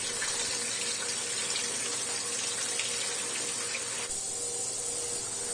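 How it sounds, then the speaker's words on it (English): Jewelry rinsed under a running tap, water streaming steadily and close for the whole stretch, with a slight shift in tone near the end as the flow or the piece's position changes. "Holding the jewelry under running water will help remove the debris from the jewelry."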